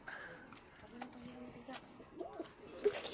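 Pigeons in a loft give soft, low cooing calls, faint and intermittent against a quiet background, with scattered small knocks and rustles and a louder close sound near the end.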